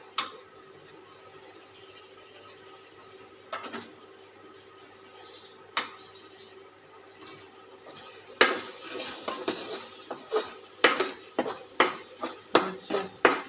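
Masala okra curry (bhinda nu shak) is stirred in a pan, a quiet simmer at first with occasional clinks, then a run of rhythmic metal scrapes and knocks of a spoon against the pan.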